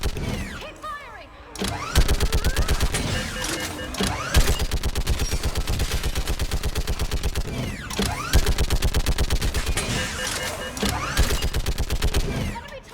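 Sustained automatic gunfire in the sci-fi shooter Mass Effect 3, long rapid bursts of loud shots rattling in steady rhythm with short gaps between volleys, under faint voices.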